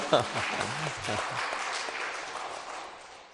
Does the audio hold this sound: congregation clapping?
yes